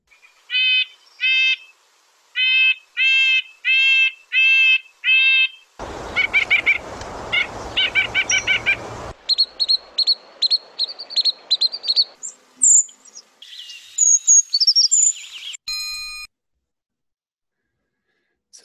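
Recorded birdsong from around Lake Tahoe, including a red-breasted nuthatch's nasal, tin-horn-like calls, with clean repeated bursts of chirps, a noisier segment midway, then varied high calls and trills, each phrase separated by silence.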